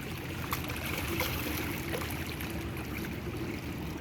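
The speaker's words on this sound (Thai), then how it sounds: "มาดูบรรยากาศแม่น้ำเจ้าพยา" Water of the Chao Phraya River in the rainy season, flowing beside a temple at high water. It makes a steady, broad wash with faint trickling and light splashing throughout, and no voices.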